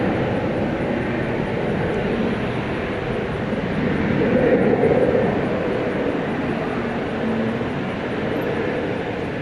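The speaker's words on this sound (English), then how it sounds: "place to watch the Qantas A380 take off." Qantas Airbus A380 taking off at night at Dallas/Fort Worth airport, a steady broad jet roar that holds loud throughout, swelling slightly near the middle, with no talking.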